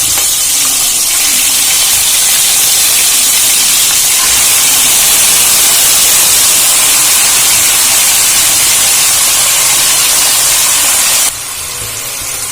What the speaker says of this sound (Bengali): আমি গ্যাসের ফ্লেমটা বাড়িয়ে ভালো করে নাড়াচাড়া করে মাংসটা ভেজে নেব